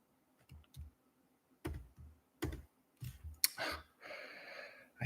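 Scattered keystrokes on a computer keyboard come in short irregular bursts with pauses between them, close and fairly quiet, ending in a longer rustle.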